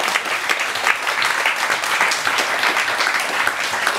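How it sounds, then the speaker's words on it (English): A wedding audience claps through a best friend's speech, a dense, sustained round of applause filling the room at steady loudness with no break. "That's a clap, come on."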